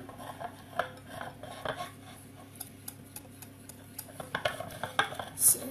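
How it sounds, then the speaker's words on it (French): Chocolate is stirred and whisked in a bowl for a chocolate soufflé, irregular light clinks and scrapes of utensil against the bowl, close and fairly quiet. "je reviens sur mon chocolat. Je mélange."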